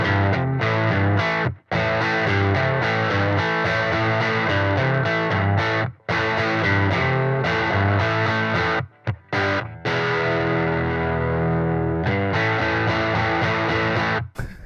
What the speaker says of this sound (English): Let's turn the reverb off now. Reverb off, everything off. Now just pure.